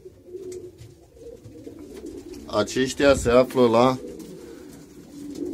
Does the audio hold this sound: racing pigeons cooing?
yes